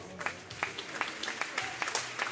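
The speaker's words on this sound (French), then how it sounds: "Vous pouvez l'applaudir très fort." Indoor athletics crowd applauding after a men's 60 m final at a meeting in Metz, steady dense clapping from a distant arena audience with faint commentary mixed underneath.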